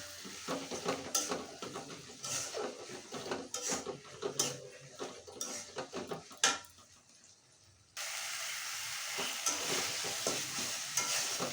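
Ground banana blossom with salt and turmeric fries in a pan under repeated spatula scrapes and stirring knocks over a low sizzle, which then settles into a steadier, even frying hiss; no voices.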